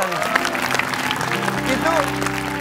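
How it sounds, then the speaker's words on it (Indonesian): Applause from a small group claps steadily throughout, mixed with voices talking over it. "tepuk tangan dulu buat Pak Ardiansyah"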